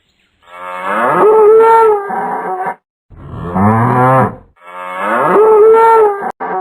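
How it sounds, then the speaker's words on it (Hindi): A cartoon buffalo bellows loudly in three long, drawn-out moos with short gaps between them, close and clear with no talking. "तब शेर ने भैंस के भयानक आवाज सुनी"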